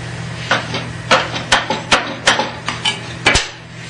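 Sharp knocks and clanks of metal parts on a Shopsmith woodworking machine as a stop is tightened against a wedge, about a dozen irregular close taps over a low hum.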